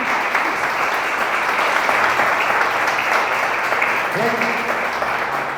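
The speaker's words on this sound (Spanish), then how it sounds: "un aplauso" Audience applause at a church seminar, a dense, loud, sustained clapping from a room full of people that carries on evenly for over five seconds, with brief faint voices underneath near the end.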